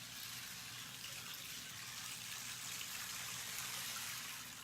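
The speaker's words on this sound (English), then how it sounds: "It's a rain disc." A rain disc instrument producing a continuous soft wash like running water, faint and steady with a gentle hiss and no voices.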